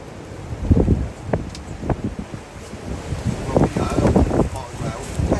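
Gusty wind on an open shoreline buffets the microphone in uneven thumps and rumbles, with a faint surf hiss behind, loud and close, no speech.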